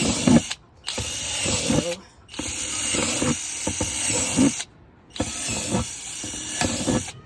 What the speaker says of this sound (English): the last step now is going to be to drill holes in the lid